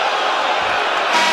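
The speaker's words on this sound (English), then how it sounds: "Crowd doesn't like it." Basketball arena crowd at a women's college game, Notre Dame against Florida State, groaning and booing in a dense, sustained roar of displeasure at an official's call, steady and loud throughout.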